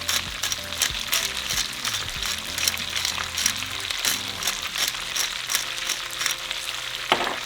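Jalapeños and onion fry in bacon grease for a bacon jalapeño cheeseburger, making a steady close sizzle with scattered crackles and pops and no voices.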